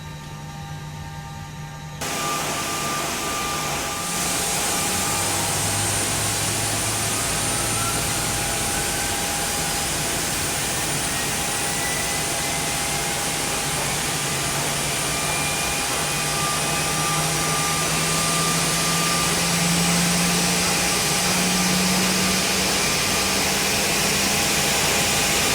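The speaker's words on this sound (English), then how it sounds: "Starting engine 1." Simulated airliner engine 1 spooling up in X-Plane 10: a rising jet whine begins after a short pause and builds into a loud, steady roar with sweeping tones, no talk.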